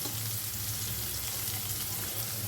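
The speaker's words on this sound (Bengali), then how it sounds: "পেঁয়াজটা একটু হালকা করে আমি ভেজে নেব।" Chopped onion fries in hot oil in a pan, a constant close sizzle with a soft steady hiss and a faint low hum beneath.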